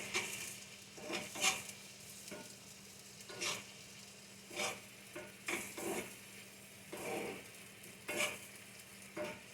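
Ground beef sizzles softly in a hot pan with a little water while a utensil stirs and scrapes in irregular bursts, close and fairly quiet.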